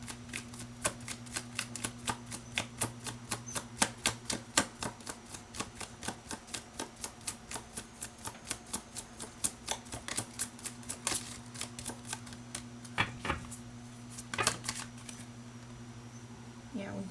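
Tarot cards being shuffled and drawn, a fast run of crisp card flicks and riffles repeating through most of the stretch under a steady low hum, with a few louder snaps near the end.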